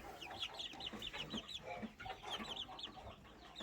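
High, thin cheeping from a group of young chicks repeats in quick bursts, with a few lower clucks mixed in.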